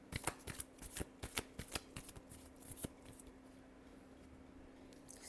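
A deck of tarot cards being shuffled, close and fairly quiet, with a quick series of crisp riffling flicks for about three seconds before it settles into near silence over a faint steady hum.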